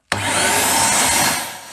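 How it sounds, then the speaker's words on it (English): A water vacuum draining a household radiator starts with a sudden whoosh, then a steady loud suction roar that holds for about a second before easing down, with no talk. "Now this is where my water vacuum comes in."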